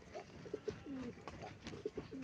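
Pigeons coo softly close by in a short burst of low, throaty repeated calls, quiet and fairly clear against a faint background.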